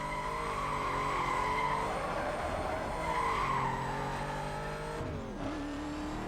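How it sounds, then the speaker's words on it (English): A Ford GT in Need for Speed: Most Wanted spins its wheels, loud tire squeal and skidding over a revving engine that rises, dips and rises again before cutting to a lower tone near the end. "Had a lot of wheel spin there from getting this car going"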